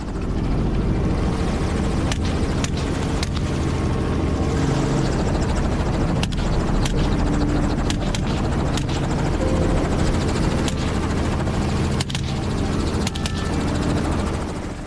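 Helicopter in flight on a wild hog hunt, a loud, steady rotor and engine roar with wind buffeting, continuous throughout with faint periodic thumps.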